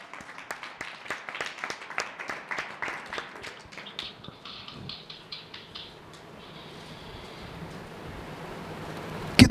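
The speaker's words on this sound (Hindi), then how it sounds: "खुदा के लिए ताली तो बजाइए।" A church congregation claps through a Sunday service, a dense burst of hand claps that thins out and fades into a low murmur of the room.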